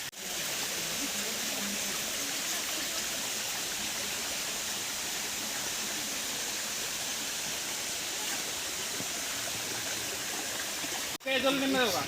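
Barmura waterfall and its stream in Tripura rush in a constant, close, loud roar of falling water, broken briefly near the end by a short pause and a voice.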